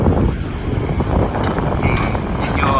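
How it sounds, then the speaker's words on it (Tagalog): Strong seaside wind buffets the microphone while fishing at San Narciso, Zambales, a steady loud rumbling roar throughout with faint higher gusts and no clear speech. "Sana marinig ka nito, lakas ng hangin"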